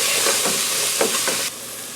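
Vegetables sautéing in a pan for a pasta e fagioli soup, giving a steady close sizzle with a few soft stirring scrapes before the sound drops lower near the end.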